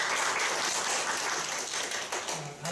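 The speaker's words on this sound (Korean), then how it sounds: "귀한 말씀 해주신 심석 위원장님께 박수 부탁드리겠습니다." A committee meeting audience applauds a chairperson after a speech, a continuous, fairly even patter of clapping from a small room crowd, tapering slightly near the end as a voice begins to speak.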